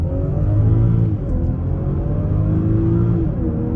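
A 2023 BMW X5 40i pulls hard in Sport mode, its engine rising steadily in pitch with a smooth, loud drone heard from inside the cabin.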